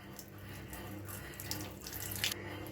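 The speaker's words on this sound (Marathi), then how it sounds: "कोमट पाणी घ्यायचं" Lukewarm water runs steadily from a kitchen tap into a glass while pizza dough is being prepared, a continuous close splashing hiss with no talking.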